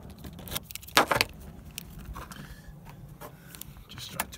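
Car keys for a Ford Focus jangle and clink in short metallic bursts, with a brief louder rattle, against quiet background noise.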